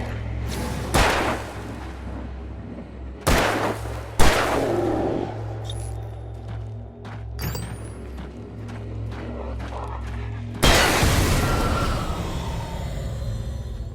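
Gunshots ring out in Alan Wake Remastered during a nightmare sequence: several sharp, loud cracks spaced irregularly, with a heavy final blast followed by a lingering rumble.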